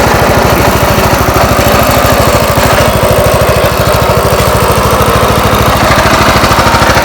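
A SAAM PS40 brush cutter and lawn trimmer engine runs steadily at close range, a loud, continuous buzzing two-stroke drone with a fast regular pulse and no pauses.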